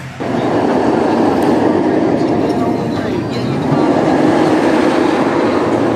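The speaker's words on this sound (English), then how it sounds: "now this train is just starting to go up the hill" The Bizarro roller coaster train at Six Flags Great Adventure climbs its lift hill, a loud, steady mechanical rumble close by that holds without pause.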